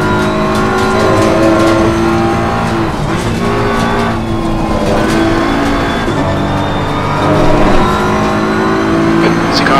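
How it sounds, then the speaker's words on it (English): A race car pulls out of the pits at Watkins Glen in Assetto Corsa Competizione, its engine droning and shifting pitch steadily and loudly over the whole stretch, with other cars faintly around. "It's a car exiting the pits."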